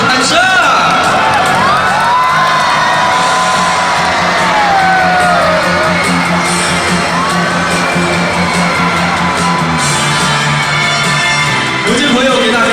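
A large audience at a killer whale show in the Chimelong Spaceship arena cheers, whoops and shouts in a sustained, loud roar, with children's voices and whistles rising through the crowd noise throughout.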